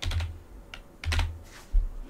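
Someone types a short search on a computer keyboard, a few quick bursts of close key clicks separated by brief pauses.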